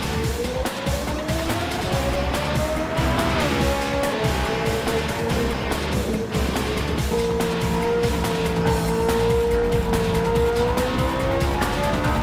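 A Ferrari F430 in a racing game, its engine droning at steady high revs as the tires squeal through an understeering corner, with loud, continuous tire scrub and engine pitch that rises and falls.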